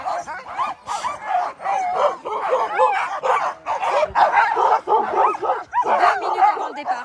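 Sled dogs waiting at the start of the Vercors Quest race bark, yip and whine almost nonstop, a close, excited chorus of many overlapping voices with no break.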